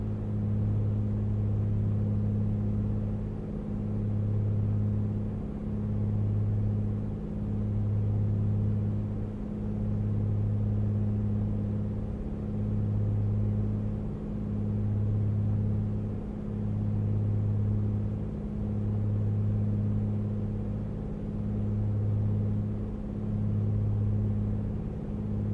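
Light aircraft engine held at 2100 RPM in a flight simulator: a steady low droning hum with a slow regular pulsing beat that runs unbroken throughout, no talking.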